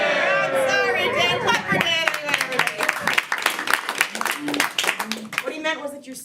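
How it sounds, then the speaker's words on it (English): An audience at a live comedy game show applauds a contestant with scattered, fairly close clapping that builds into a patter of claps, while people chatter and talk over it. "Clap for Dan."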